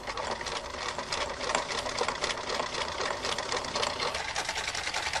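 A sewing machine running continuously with sideways zigzag needle movements and variable cloth feed for fancy stitches, a fast, even rattling patter heard close and alone throughout.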